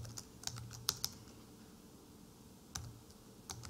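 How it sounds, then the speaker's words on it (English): Keys clatter on a computer keyboard while typing a formula in spreadsheet modeling software, coming in a few quick bursts of sharp clicks with pauses between, close and fairly clear over a quiet background. "Let me type that correct."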